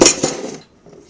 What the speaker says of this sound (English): you just want to mix this up